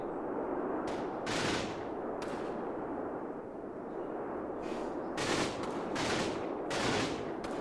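Quiet bursts of gunfire in the video game Combat Mission, several short rattling volleys spaced through the clip over a low steady background rumble.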